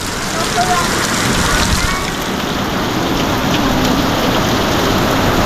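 Rain falling steadily, a loud dense hiss of drops pattering on surfaces close by, continuous throughout without letup.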